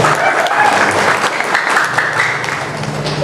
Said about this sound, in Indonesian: Tepuk tangan buat angkatan 11.